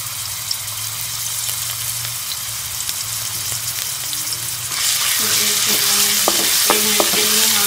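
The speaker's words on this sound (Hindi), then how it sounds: "पैन में हम 1 चम्मच कुकिंग ऑयल डालेंगे। इसमें हम ये लहसुन का पेस्ट डाल देंगे।" Oil sizzles and crackles steadily in a pan as garlic paste fries, with a louder burst of frying and clinking stirring toward the end.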